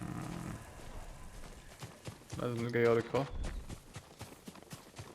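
Horse hooves clip-clop at a steady walking pace in Ghost of Tsushima, moderately close, while someone talks over much of it.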